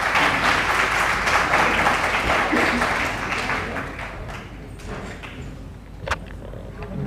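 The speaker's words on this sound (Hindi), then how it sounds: "जोरदार तालियों से स्वागत कीजिए।" Audience applause welcoming a college professor as a guest at a Hindi panel discussion, steady loud clapping that gradually thins and fades over several seconds.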